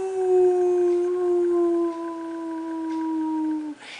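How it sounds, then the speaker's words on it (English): A large beast lets out a long, sustained howl with steady drawn-out tones, loud and close, fading and breaking off near the end. "The beast howls at the cloudy gray sky."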